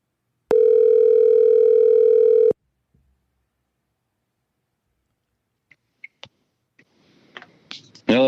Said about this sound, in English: see if we can get him on the phone